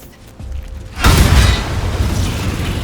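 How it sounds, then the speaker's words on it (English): A Booming Blade spell attack lands in the video game Baldur's Gate 3. After a quiet lead-in there is a single loud, deep boom with a burst of impact noise, and it fades into a lingering low rumble. "So we're going to go Booming Blade."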